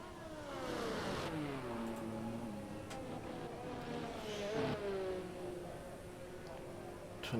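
Formula 1 race car engines from the F1 22 video game whine and rise and fall through gear changes, a steady layered drone with sweeping pitch under faint commentary on the Bahrain circuit.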